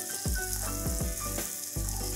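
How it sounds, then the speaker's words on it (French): Crozets, small square buckwheat pasta, toasting in oil in a pan at the start of a risotto, a soft sizzle with a few sharp stirring knocks and scrapes close by. "On met nos crozets qu'on va nacrer, qu'on va faire suer nacrer"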